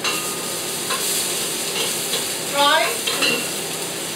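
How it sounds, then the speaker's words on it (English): Garlic sizzles steadily in a hot pot while a utensil stirs it with soft scraping clinks. A brief spoken word breaks in. "add in all your garlic."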